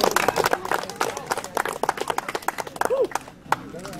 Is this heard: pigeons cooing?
no